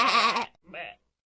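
Sheep grazing on a hillside give two bleats, a long loud wavering one followed by a shorter, softer one, close by and alone.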